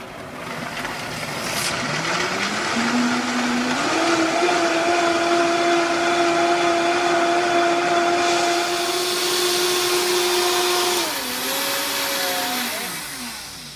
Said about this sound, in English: All right, blend away.